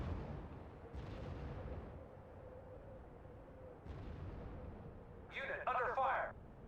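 Distant artillery and gunfire from a World War II Utah Beach battle in the strategy game R.U.S.E., dull booms rolling under a constant rumble, with a short burst of radio chatter near the end.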